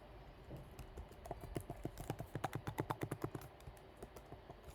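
Rapid clicking of keys on a computer keyboard, a quick burst of close typing that speeds up in the middle and then trails off.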